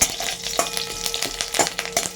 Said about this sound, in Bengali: এই তেলেতেই আমরা দিয়ে দিচ্ছি কালো সর্ষে, আর দিয়ে দিচ্ছি কারি পাতা।